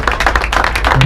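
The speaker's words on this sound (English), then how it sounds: "I'm going to give you a round of applause for being out here." Crowd applause at a skate shop grand opening in Boyle Heights, a dense, steady wash of many hands clapping close by for about a second, with a sustained tone entering near the end.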